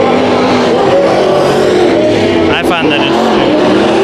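Race cars roaring around Bakersfield Speedway during a heat race, a loud continuous engine drone with shifting pitch as cars pass, under steady commentary from an announcer.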